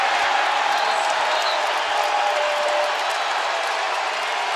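A basketball arena crowd roars after a steal in an NBA game, a dense, loud, sustained wall of cheering and applause that eases slightly toward the end.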